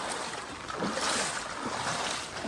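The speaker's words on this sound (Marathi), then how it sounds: "रातच्या तीन वाजल्यापासून जोरदार असा पाऊस आमच्याकडे चालू आहे" Heavy cloudburst-like rain and rushing floodwater pour across cotton and soybean fields in Dhandegaon, Jalna, forming a steady, dense wash of noise that rises and falls slightly, with no voices.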